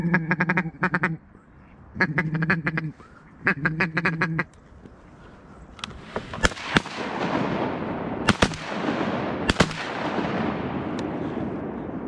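During a duck hunt, ducks give several bursts of quacking up close, followed by a string of loud, sharp shotgun blasts echoing over the water amid a noisy outdoor background.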